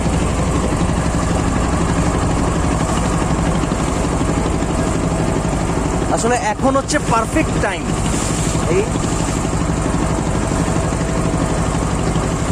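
A boat's engine drones steadily and loudly on the Karnaphuli river at sunset, water splashing along the hull, while someone talks briefly over it.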